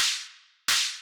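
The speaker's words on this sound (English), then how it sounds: "There's actually a clap sample and a snare sample stacked on top of each other." A snare layered with a clap sample, programmed for a hard techno track in Ableton Live, strikes twice with a sharp, bright crack. Each hit has a noisy tail fading over about half a second, loud and dry, with no voices.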